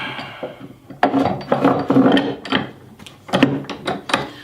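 A newly installed vise on a woodworking assembly table being tested, giving close, uneven bursts of ratcheting, grinding and rubbing as the screw mechanism is cranked, with short pauses between turns.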